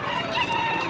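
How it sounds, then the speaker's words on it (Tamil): Chickens at a village market in Kunnathur, a brief, close, loud burst of clucking and crowing with busy ambience behind. "கோழி ஏகப்பட்ட கோழி வச்சுட்டப்பா."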